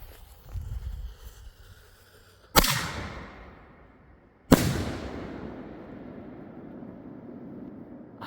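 Two fireworks go off at dusk, each a sharp loud bang followed by a long rumbling echo off nearby mountains, with a quiet lull between the blasts.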